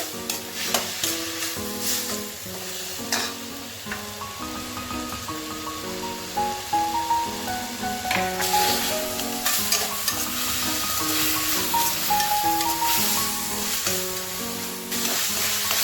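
Mint and coriander leaves sautéing in a pan for mint chutney, a continuous sizzle broken by repeated stirring scrapes and clinks, close and without talk.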